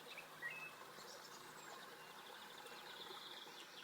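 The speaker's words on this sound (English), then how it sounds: "You can probably hear blackbirds and things in the background." Birdsong, likely blackbirds, sounds faintly and steadily beside a garden stream at an English nursery, with chirps and scattered calls over a soft continuous background of running water.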